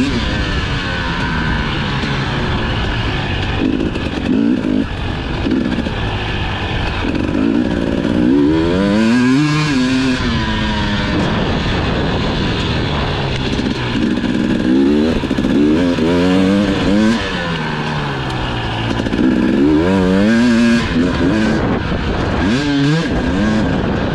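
Enduro motorcycle at an amateur race in central Italy, lapping a cross test: a loud, close engine revving hard and constantly, with rising and falling pitch sweeps through gear changes and corners, continuous with no talking.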